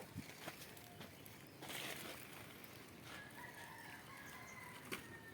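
Chickens clucking and a rooster crowing at a distance, set against a noisy outdoor background with faint scattered bird calls.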